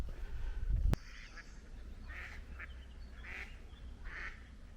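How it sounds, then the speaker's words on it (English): Mallard ducks quack a few times at a moderate distance, spaced out after a sharp thump at the start, over faint outdoor background noise. "I think they're all mallards."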